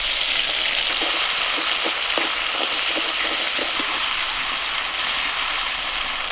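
Tomato frying in a pan with ginger paste just added, for a green jackfruit curry: a loud, close, steady sizzle with scattered clicks and scrapes of stirring.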